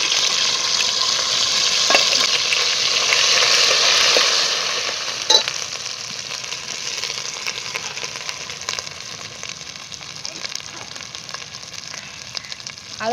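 Grated coconut, garlic, curry leaves and cumin fry in hot oil with a bright, steady sizzle that eases after a few seconds, broken by occasional sharp spoon clinks against the pan, close up with no talking.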